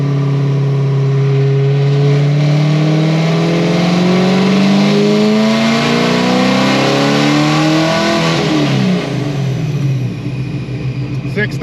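A supercharged car engine revs hard on a dynamometer during a pull, its tone climbing steadily and loudly before cutting off near the end.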